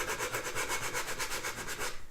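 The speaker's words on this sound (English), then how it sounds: "The idea is that generally as I sand around to the top" A dining chair leg being sanded by hand, the wood rubbed in a steady rhythm of close, repeated abrasive strokes, about a dozen quick passes, with no talking.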